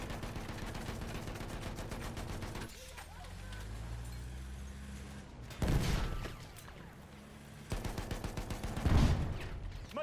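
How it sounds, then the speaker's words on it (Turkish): Machine gun fire in Battlefield 1 on the Sinai Desert map, with rapid repeated shots at the start and later loud bursts and blasts amid battle noise and shouted voices. "Dikkat eyleyin makinalı tüfek!"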